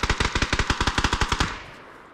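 Rapid gunfire burst in the battle royale game PUBG, about a dozen evenly spaced loud shots in quick succession, then a short fading tail of echo.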